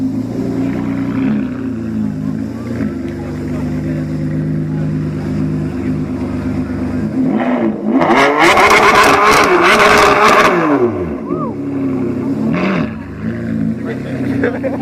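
Ferrari F12 engine revs hard nearby, a loud rising and falling roar that peaks in the middle and then settles back to a steady rumble, heard over a constant background of traffic and voices.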